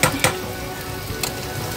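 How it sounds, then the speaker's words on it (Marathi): Spices sizzling in hot oil as a phodni of onion, garlic, ginger, coconut and garam masala is tempered at home, a steady soft hiss with a couple of sharp stirring clinks near the start. "अशी चांगली फोडणी देते।"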